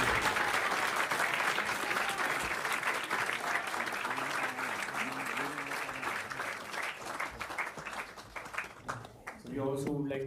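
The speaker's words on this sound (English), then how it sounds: "Let's give a big round of applause to the" An audience at a talk on lessons from the Ramayana breaks into loud, dense applause. The clapping thins toward the end, and a voice speaks through the last moments.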